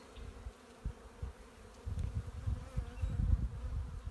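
A low, dense hum of many honey bees buzzing close by on a hive frame, swelling louder in the second half, with no talking.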